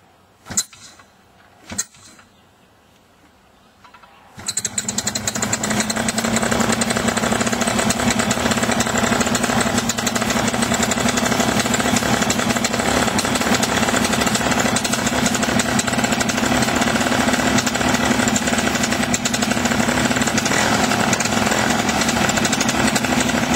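A Simonini paramotor engine, flooded with fuel, gives a few sharp start attempts, then catches and runs steadily and loudly close by for the rest of the clip.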